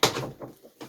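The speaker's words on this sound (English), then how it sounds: "Close the door" The door of a GE Profile Harmony clothes dryer shuts with a sharp thump, followed by fainter rattles and a second soft knock, heard close and alone.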